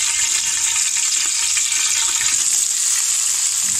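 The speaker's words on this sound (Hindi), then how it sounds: "एक पतीला लिया है, अब हम इसमें 1 कप ऑयल डाल देते हैं। अब हम इसमें प्याज ऐड कर देते हैं" Chopped onions fry in about a cup of hot oil in a pot, making a loud, steady, hissing sizzle that continues unbroken throughout, with no talking.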